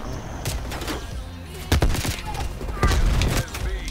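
Sniper gunfire in the video game Call of Duty Cold War, with loud sharp shots and bursts around two seconds and three seconds, mixed with game effects and faint voices.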